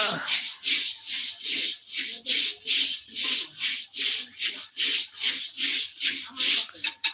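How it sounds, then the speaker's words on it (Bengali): Sand stirred and scraped with a wooden stick in a steady rhythm of about two strokes per second, each stroke a close, gritty rubbing swish, with faint voices in the background. "বালি নেড়ে দিতে ওইভাবে নাড়তে হবে ওইটার জন্য আলাদা একটা কাঠি থাকলি তো সেটা দিয়ে নেওয়া যাবে"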